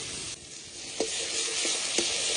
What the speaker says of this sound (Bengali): এবার পেঁয়াজের সঙ্গে আদা রসুনটা একটু ভালো করে কষিয়ে নেব